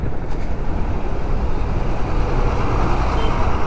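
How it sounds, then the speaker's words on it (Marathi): Heavy road traffic at Mangaon on the Mumbai–Mahad route rumbles continuously, a loud, dense low roar of trucks, cars and buses close by, with no pauses. "माणगावला दरवेळी खूप ट्रॅफिक असते आता सध्या."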